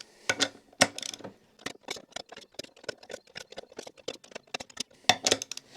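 Torque wrench tightening the bolts on a beadlock wheel rim to 18 foot-pounds, producing a string of sharp close ratcheting clicks and clacks in irregular bursts, with a few louder metallic knocks among them.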